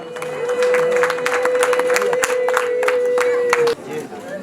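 A wedding crowd breaks into sustained, brisk clapping, with a long held high tone and scattered cheers over it, then the applause cuts off near the end.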